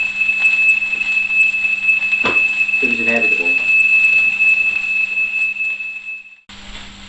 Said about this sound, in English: Okay, so that's the smoke alarm dealt with.